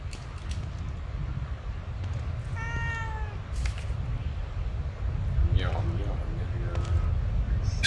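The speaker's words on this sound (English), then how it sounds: "A cat." A cat meowing in the horror video game The Evil Within 2: two separate, drawn-out meows a few seconds apart over a steady low ambient rumble and faint creaks.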